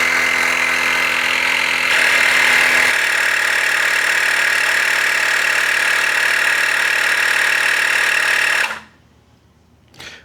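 A Teslong 20V cordless inflator pumps up a car tire on a Mercedes-Benz, making a loud steady motorized buzz close by that runs unbroken for several seconds, then cuts off abruptly, leaving near silence.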